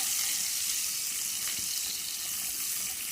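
Chopped onions hitting hot garlic in a home kitchen pan, giving a steady, even hiss of frying and sizzling that runs unbroken and fairly close for the whole stretch, with no voices over it.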